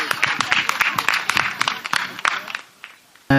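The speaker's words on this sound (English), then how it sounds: "Can you please give a round of applause?" Wedding guests give a short burst of lively clapping close by, tapering off after a few seconds, followed by a brief loud burst of voice at the end.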